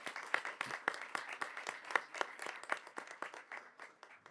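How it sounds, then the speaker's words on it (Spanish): Sparse, distinct handclaps ring out at a municipal council inauguration in Envigado, a small group clapping irregularly at moderate distance, with no talk over them. "usted merece un fuerte aplauso de todos los envigadeños"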